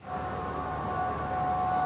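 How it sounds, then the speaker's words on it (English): Sirens wail over Baghdad after rockets struck near the US Embassy, a steady sustained tone held without break, distant and moderate in level. "sirens were heard in Baghdad after rockets hit near the US Embassy"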